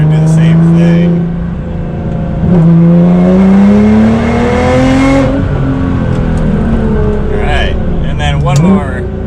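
A Nissan GT-R with an anti-lag tune accelerates hard in second gear on launch control, the engine droning loudly and rising in pitch, easing off, then climbing again before a final sharp rev, heard close from inside the car.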